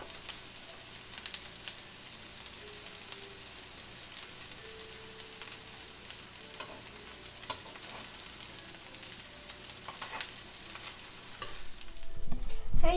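Keto salmon cakes frying in real butter in a pan, a constant crackling sizzle with occasional spatula scrapes, growing louder and busier near the end.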